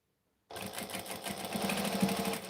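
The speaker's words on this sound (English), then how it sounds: "You hear how quiet my bobbin case is now?" A sewing machine starts abruptly after silence and runs in a fast, even stitching rhythm, its bobbin case quiet and close.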